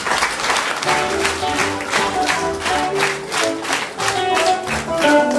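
A church congregation claps together at an Anglican baptism and opening ceremony, a dense rhythmic applause that stays loud and steady throughout, with some voices mixed in.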